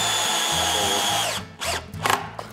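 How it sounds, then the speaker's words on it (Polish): A cordless drill-driver spins at steady speed while driving screws into wood in a theatre carpentry workshop, then breaks into short stop-start bursts as the screws seat. "Dobrze, że są dwie wkrętarki, że nie trzeba przekręcać te co chwilę."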